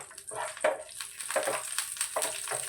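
Cashews and raisins fry in ghee in a pan, with soft sizzling broken by short, repeated stirring scrapes close by.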